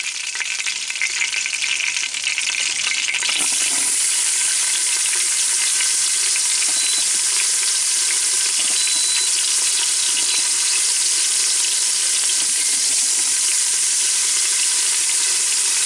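Chopped onions hit a hot frying pan with a sharp burst, then settle into a steady, close, broadband sizzle that continues alone for the rest of the stretch, being cooked for roast beef with potatoes.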